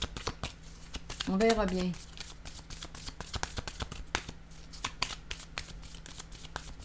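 Tarot cards are shuffled and laid down in a series of soft, dry slaps and flicks, close by and fairly quiet, with a person talking over them.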